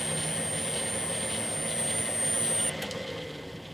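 A Clausing lathe with a variable-speed crossshaft runs in forward, giving a steady broadband mechanical hum with a high whine that drops away near the end, close and alone.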